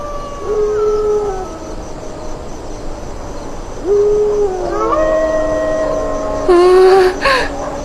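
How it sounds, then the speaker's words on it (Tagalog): Long, wavering dog howls rise and fall, with several overlapping near the end over a constant background hiss. "Bakit sila umaalulong ng ganon?"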